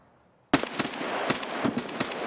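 Gunfire in the video game Escape from Tarkov bursts in suddenly after a brief quiet, a loud rapid string of shots with a few separate cracks following, close and without talk.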